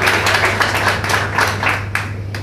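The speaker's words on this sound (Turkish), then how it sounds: "Evet, alkışlarla tebrik ediyoruz, kutluyoruz." Audience at a karate award ceremony gives steady, fairly loud applause, rhythmic clapping with a constant low hum underneath.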